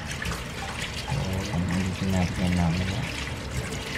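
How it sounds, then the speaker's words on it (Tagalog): Running tap water pours and trickles as freshly pulled ulasimang bato (pansit-pansitan) medicinal plants are rinsed, a steady splashing flow close by with a person talking over it. "sa running water lang, pwede nyo yung hugasan"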